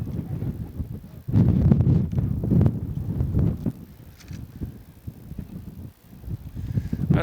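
Wind buffeting a microphone on an open soccer field during a boys varsity match, a loud low rumble swelling and easing in gusts, with heavy bursts near the start and again toward the end.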